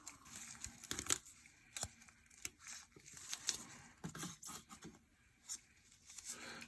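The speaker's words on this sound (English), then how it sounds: "I'm bringing the KB straight form tailoring scissors and cutting this in a straight line." Tailoring scissors cutting a paper nail form in a straight line, giving quiet, scattered snips and crinkles with short pauses between them, close and faint.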